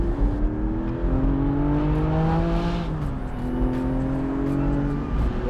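A Porsche 718 Spyder with its sports exhaust revs up through the rev band, the loud, close engine note climbing and falling in pitch, dipping briefly midway before rising again, with no voices.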